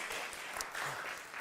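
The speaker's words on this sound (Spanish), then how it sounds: "Démosle un aplauso, sí." A church congregation gives a short round of soft, steady applause, heard faintly and continuously throughout.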